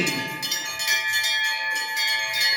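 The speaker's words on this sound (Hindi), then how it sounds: "घंटी घड़ियाल बजाते हुए गणेश जी महाराज की सुंदर आरती।" Temple bells and a gong ring continuously and loudly during a morning Ganesh aarti at a Durga Puja committee bhajan, a dense, steady metallic clangor with no voices.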